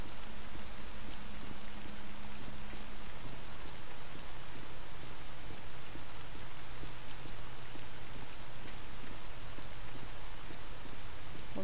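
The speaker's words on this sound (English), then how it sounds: "wait a little bit and see if it stops raining" Steady rain falling in Pripyat, a dense, even hiss of drops that stays constant throughout with no talking.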